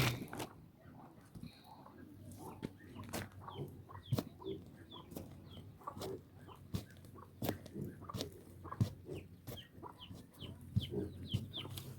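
Chickens cluck in a steady scatter of short calls around a yard, with sharp clicks and faint background noise over a low hum throughout.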